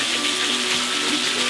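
Water pours down like a shower on a hiking trail in the Grampians, a steady, close, hissing rush with no voices.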